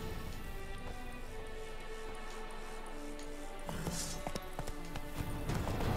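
Horse hooves clip-clopping at a steady riding pace in The Witcher 3: Blood and Wine, a continuous rhythmic patter under game ambience with a brief sharper flurry near the end.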